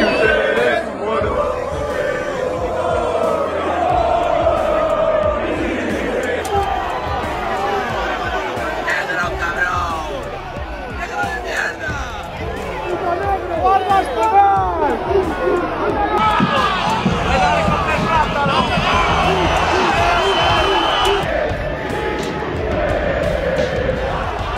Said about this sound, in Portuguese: Olha a torcida, olha a torcida.